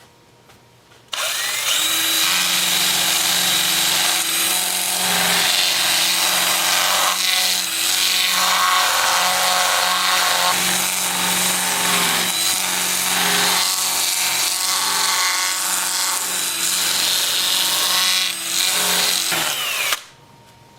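A 2-inch sanding disc with 80 grit Abranet sands a lathe-turned cork oak bowl, making a loud, continuous power-tool whir and abrasive rasp that starts and stops abruptly, with no talking.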